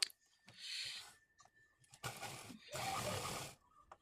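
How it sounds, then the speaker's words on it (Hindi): A sewing machine stitches the upper seam of a pair of trousers, running in two short bursts with a brief pause between, at moderate distance and fairly quiet. "अब ऊपर भी सिलाई लगा लेते हैं।"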